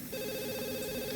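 A telephone rings steadily inside The Sims life-simulation game, a continuous electronic ring sustained through the whole short moment with no voices over it.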